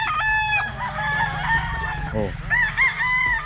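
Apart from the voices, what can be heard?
fighting rooster gamecocks crowing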